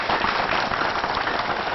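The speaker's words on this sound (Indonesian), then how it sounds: "Tepuk tangan untuk Bapak Heri" Applause for Bapak Heri, the village head, at an agribusiness talk event: dense, even clapping from an audience, loud and continuous for the whole moment.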